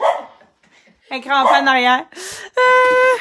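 A dog gives a few short, tonal barks and yips close by, interleaved with a person speaking.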